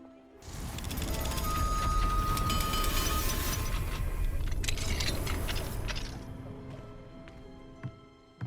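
An Alohomora unlocking spell opens a lock in Hogwarts Legacy: a dense, loud mechanical whir of clicking gears and ratcheting tumblers sustains for several seconds, then fades to a quieter tail with a couple of sharp clicks near the end.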